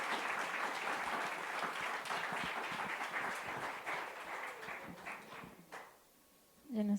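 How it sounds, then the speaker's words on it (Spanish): Audience applause fills a hall at the close of a spiritual talk, a dense, steady clapping that runs several seconds before thinning out and fading to near silence, with a brief burst of sound right at the end. "Un aplauso."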